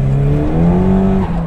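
A four-wheel-drive Ford Sapphire Cosworth accelerates on a damp road with a loud, close engine note that rises steadily and then dips at a gear change.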